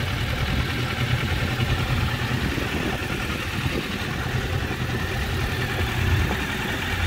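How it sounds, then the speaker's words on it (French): A Kawasaki Versys 650 motorcycle's 650 engine idles steadily, a dense, continuous low rumble with mechanical clatter holding at an even level throughout, with no one talking. "Toujours le même moteur, 650."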